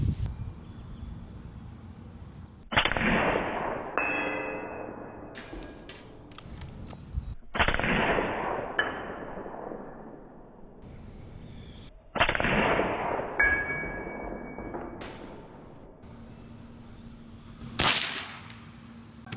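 Four sharp shots from a Crosman Prospect PCP air rifle crack out at spaced intervals, each with a short ringing decay, loud and close with no talking.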